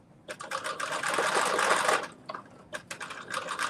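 A sewing machine stitches fabric in a sustained whirring run, followed by short stop-start bursts of stitching.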